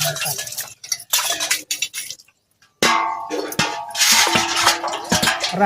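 Dishes, pots and cutlery are scrubbed and washed by hand at close range, with irregular clinks and clattering scrapes broken by one brief pause, then a busier stretch of clanking.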